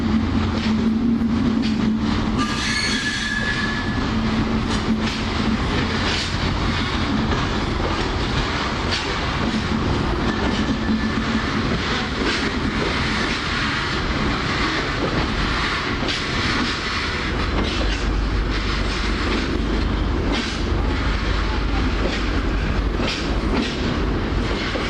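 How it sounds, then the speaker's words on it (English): Three freight locomotives passing through Leicester station, a steady loud rumble and clatter of wagons filling the whole stretch with no break. "3 freight locos in one shot."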